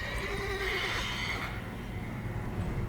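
A horse neighs and whinnies in The Witcher 3, a loud, drawn-out call over low ambient game sound, fading after about a second and a half into steady background noise.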